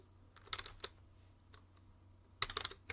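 Clusters of crisp keystrokes on a computer keyboard while editing text, short bursts of typing separated by quiet pauses, close and clear over a faint background hum; no talking.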